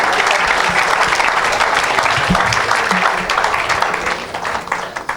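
A church congregation applauding during a worship service, dense and loud sustained clapping from many people throughout, with faint voices mixed in.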